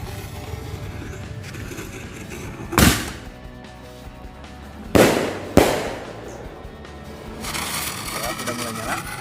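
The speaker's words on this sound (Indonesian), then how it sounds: "Ini dia merconnya. Kita masukin dulu. Oke, udah siap kita nyalakan." Firecrackers set off for Christmas and New Year 2022, three loud sharp bangs spaced a few seconds apart, each followed by a fizzing tail, with hiss and crackle building again at the end and voices around.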